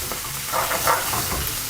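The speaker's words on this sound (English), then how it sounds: "frying off those spices a little bit" Spices for a hot honey seasoning frying in a little oil in a pan, a loud, steady sizzle with some stirring scrapes over a short stretch, no voices.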